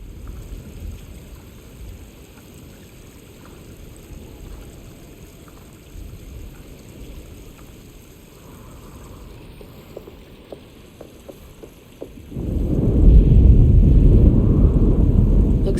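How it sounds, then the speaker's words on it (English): Steady rain patters through a stormy night in the game Alone in the Dark, then swells abruptly into a much louder, heavier downpour near the end. "Looks like a storm's coming."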